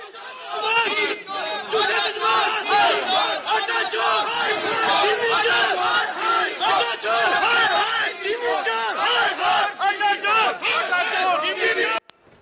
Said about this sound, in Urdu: یہ اس طرح کے نعرے بازی ان کے ارد گرد کی گئی